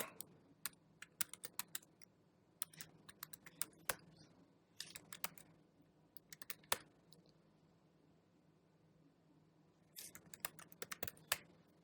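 Fast key clicks from a computer keyboard as a password is typed at a terminal while checking an SSH service during a Hadoop install, coming in quiet bursts of rapid taps separated by short pauses, with no talking.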